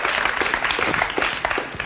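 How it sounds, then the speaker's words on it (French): A TV studio audience on a French game show applauds steadily, a dense, even wash of many hands clapping close up that holds at a constant level throughout. "on peut applaudir très fort Catherine et ses inventions qui se mangent"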